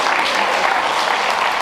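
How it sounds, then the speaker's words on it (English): Classroom of language students clapping for themselves, a loud, dense burst of applause filling the room, with faint voices mixed in. "Right now, ladies and gentlemen, I want you to clap for yourselves."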